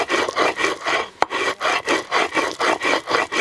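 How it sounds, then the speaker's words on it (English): Chilies are ground between stone on a metate in an Oaxacan village kitchen for mole negro, making a rhythmic back-and-forth scraping of rock on rock, about seven close, loud strokes with a soft squish between them. "I love the sound of that rock on rock, but then with the squishing sound of those chilies in between the rocks"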